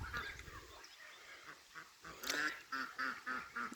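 Ducks at a garden duck house quacking close by in a quick series of nasal calls, a few scattered at first and then louder, rhythmic bursts toward the end.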